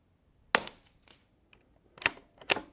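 Three sharp, fairly close rimfire reports from an Anschutz 1727F target rifle with a ball-bearing action, firing Eley Ultra ammunition: one shot, a pause of about a second and a half, then two more in quick succession.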